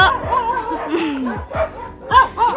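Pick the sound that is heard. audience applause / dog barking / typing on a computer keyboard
dog barking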